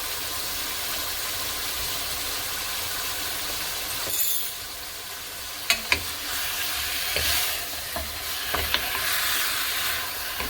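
Pork browns in a pan with garlic and onion for a sautéed chayote dish, giving a continuous soft sizzle with a few sharp clatters of a utensil against the pan partway through.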